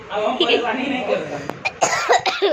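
Person coughing and clearing the throat after drinking a cold soft drink, several close bursts of coughs in an irregular rhythm, mixed with speech.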